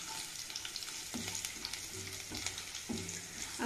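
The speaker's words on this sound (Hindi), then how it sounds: "गार्लिक को हम अच्छी तरह से हल्का सा ब्राउन होने देते हैं।" Garlic fries in a pan until lightly browned, with a soft sizzle and several distinct scraping stirs of a spoon against the pan, faint and close, with no voices.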